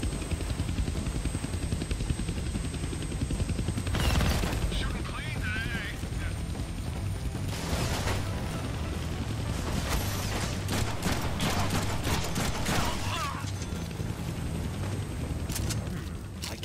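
Helicopter rotor thrum and bursts of rapid gunfire from the Deadpool video game on PS5, a steady low drone with loud clustered shots and clanks, mixed with speech throughout.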